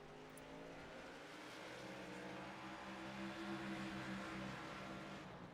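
Race cars on a road course, the 96 and the 7 leading a pack into the first chicane of a Roval oval-road circuit, engines droning steadily and revving together at a distance for several seconds.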